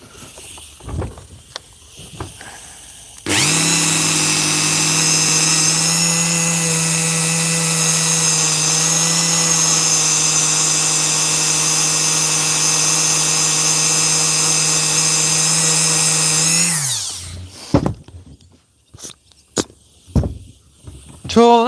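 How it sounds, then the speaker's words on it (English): A Dremel rotary tool whines at a steady high pitch for about fourteen seconds while polishing, starting and stopping abruptly, with quieter handling noises and faint voices before and after. "The Dremel for a wee bit of concentrated or focus on the one spot even."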